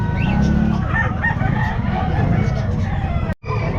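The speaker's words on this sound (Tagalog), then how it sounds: "Ayan mga manok po niya sir." Chickens and a rooster at a pet market, with clucking and a crow amid busy market noise, close and loud, with voices talking underneath and a brief dropout near the end.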